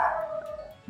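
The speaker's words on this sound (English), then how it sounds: "is barking" A dog named Darlene gives a short howling bark indoors, a single drawn-out canine call heard alone at moderate distance.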